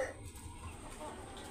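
Laiza breeder roosters cluck faintly against a murky, noisy farmyard background, the soft fowl sounds brief and indistinct.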